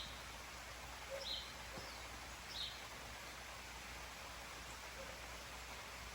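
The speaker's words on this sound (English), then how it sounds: "Yes, it's raining." Soft, steady rainfall hisses evenly in the background, with a couple of faint bird chirps rising above the patter.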